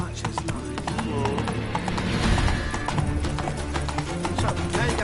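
A horse gallops in The Witcher 3 video game with a steady rapid clip-clop of hooves that runs throughout, under game music and a spoken voice.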